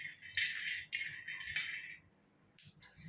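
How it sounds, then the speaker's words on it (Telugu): Peanuts tossed in a pan for roasting give bright, continuous clinking and rattling in short stirred bursts, then a quieter pause and one last scrape, with no talk over it. "ఇలా శనక్కాయలని అయితే మనము దోరగా వేయించుకోవాలండి"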